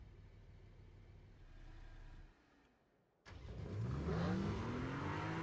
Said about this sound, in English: You can hear the turbo spooling up,